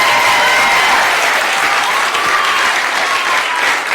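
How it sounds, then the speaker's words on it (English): At a town council meeting, a room of people applauds a girls' under-11 soccer team with loud, dense, steady clapping that fills the whole short stretch without a break. "let's have a big round of applause first for the team"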